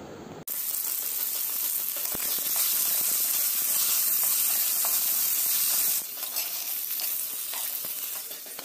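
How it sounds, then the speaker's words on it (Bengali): Potato pieces fry in hot oil with salt and turmeric for a Bengali katla fish curry, giving a loud, steady sizzle that runs almost without a break after a brief quiet start, with no talking. "এখন আলু ভেজে নেব। তো একটু লবণ আর হলুদ দিয়ে ভালো করে ভেজে নেব।"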